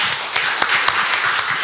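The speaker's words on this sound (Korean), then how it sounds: "우리 격려의 박수 한번 부탁드리겠습니다." Brief, steady applause from a church congregation during a Sunday Lent worship service, continuous close clapping lasting under two seconds.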